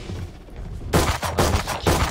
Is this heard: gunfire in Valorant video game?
yes